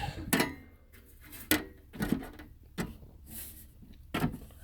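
A propane stove inside a Plymouth Voyager GTRV camper van being handled, with a series of sharp metallic clicks and clanks: several separate knocks and rattles at irregular intervals, close up and fairly loud.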